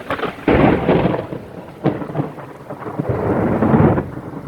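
Thunder from a lightning strike rolls and rumbles loudly through steady falling rain, with several deep booming surges and crackles over a few seconds and no voices.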